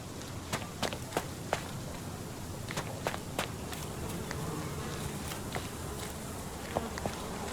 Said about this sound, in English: I should write a book about the behavior of bees someday.